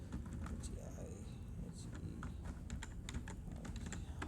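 Rapid light clicking of a computer keyboard while code is typed for an Electron desktop app in HTML, CSS and JavaScript, uneven quick keystrokes over a low steady background hum.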